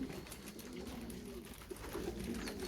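Young racing pigeons coo steadily in a backyard loft on a sunny day, a soft continuous murmur of overlapping low calls with no talk.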